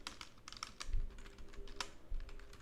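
Quiet, close typing on a computer keyboard, with a quick run of crisp key clicks and a firmer press near the end that fits the Enter key. No one speaks.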